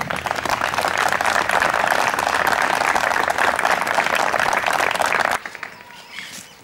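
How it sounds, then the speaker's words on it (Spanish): A crowd at a volunteer firefighters' day ceremony in La Cumbre gives loud, sustained applause, dense clapping that holds steady for about five seconds and then cuts off, leaving only a faint murmur. "les pido un fuerte, un fuerte aplauso para todos los integrantes del Cuerpo Activo de Bomberos Voluntarios de la Cumbre"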